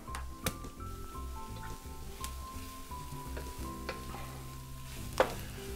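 Garlic and onion frying in a pan for shakshuka, with a soft, steady sizzle and a few sharp clicks of a spoon stirring, fairly quiet and close, with no talking.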